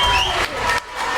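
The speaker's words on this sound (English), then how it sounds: "the crowd comes alive" A kickboxing title fight crowd roars in a loud, sustained burst of cheering and shouting right after a big right hand lands, with the noise swelling and dipping across about a second.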